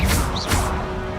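A fire spell cast in the Hogwarts Legacy video game: two quick whooshing bursts with a crackling, smashing edge over a low rumble, close and fairly loud, lasting about a second.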